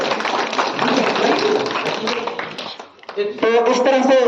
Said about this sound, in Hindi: आप लोगों से आग्रह है कि ताली बजाकर इनका स्वागत करें।